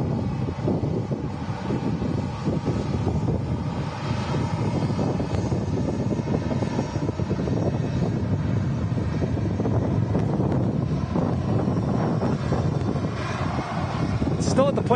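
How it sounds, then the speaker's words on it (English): A Tui Boeing 737 MAX arriving from Dalaman lands at Manchester Airport in strong storm winds, a continuous broad roar of engines and gusting wind buffeting the microphone, with talk faintly underneath. "like a 737 MAX coming in next with Tui. It's in from Dalaman."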